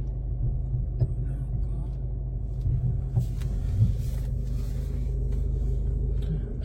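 A car engine idles and creeps in reverse during a driving lesson, a steady low rumble close by with a few faint knocks and no clear talk.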